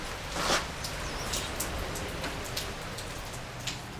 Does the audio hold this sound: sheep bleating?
no